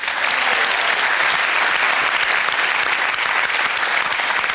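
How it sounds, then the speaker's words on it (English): A studio audience on a television show gives steady, loud applause that stays continuous and dense throughout, with no break. "Please give them a big round of applause."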